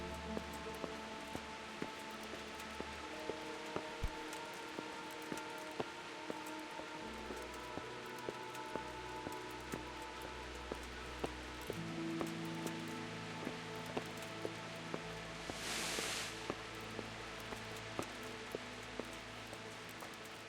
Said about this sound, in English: it's raining cats and dogs again